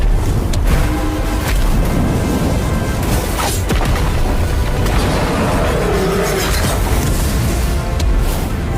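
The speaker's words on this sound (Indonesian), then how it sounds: "Benturan kekuatan mereka menyebabkan ledakan yang begitu kuat." A mighty explosion as two fighters' powers collide in a wild desert in an animated fantasy battle, a loud, sustained roaring rumble with scattered crashing bursts that fills nine seconds without any voices.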